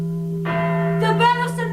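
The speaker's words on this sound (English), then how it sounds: "The bell of St. Mark's" A single church bell of St. Mark's strikes and its tone hangs and rings on, loud and fairly close, alone without any voices.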